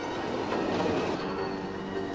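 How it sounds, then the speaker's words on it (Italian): Underground train running beneath Palermo, a steady loud rumble with rail noise and faint wheel clatter throughout, no voices. "Ora il treno viaggia sottoterra, proprio dove c'era Cortile Cascino."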